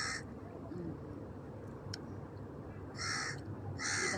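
A crow caws in Singapore, a few harsh, nasal calls in short bursts, with two loud caws near the end over steady outdoor background noise.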